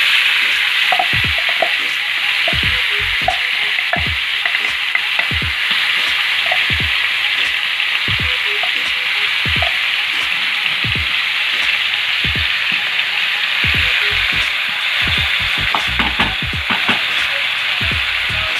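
Cumin, fenugreek, carom and mustard seeds sizzle in hot oil for a dal palak tempering, a loud steady hiss scattered with sharp pops and crackles from the seeds.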